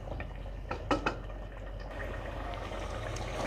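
Mutton curry cooks in a pressure cooker pot over a high flame, a steady sizzle and bubble as the water dries off, with a couple of sharp utensil clinks against the pot early on.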